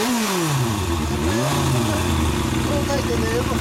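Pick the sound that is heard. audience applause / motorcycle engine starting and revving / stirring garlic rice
motorcycle engine starting and revving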